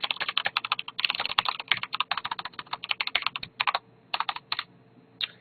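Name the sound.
typing on a mechanical computer keyboard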